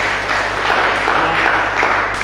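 Church congregation applauding in praise of Jesus, a steady, moderately loud wash of clapping lasting a couple of seconds with a low hum underneath.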